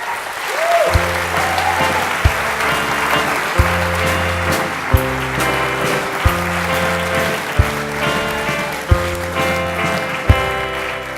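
An audience at an education-themed talk event applauds steadily and loudly for a welcomed speaker, with dense clapping filling the room throughout and a repeating low tonal pattern underneath.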